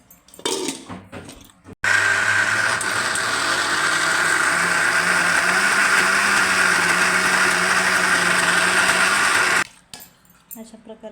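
A mixer grinder grinds moong dal with salt, turmeric and spices for mung dal vada, roaring loudly and steadily for about eight seconds, with short clattering handling noises before it starts and after it stops.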